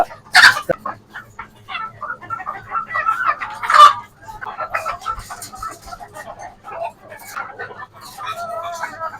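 Hens clucking and calling inside a poultry farm during intense summer heat, a continuous close-up flock chatter with a couple of louder squawks, with someone talking over it.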